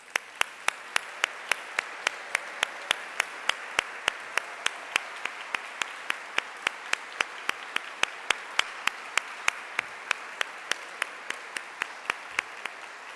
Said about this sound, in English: That is worth an extra applause to you.